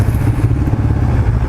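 CFMoto GT400 sport-touring motorcycle cruising at night, its engine a steady, close low rumble with constant wind roar and slight rattling, no pauses throughout.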